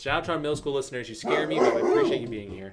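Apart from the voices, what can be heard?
dog barking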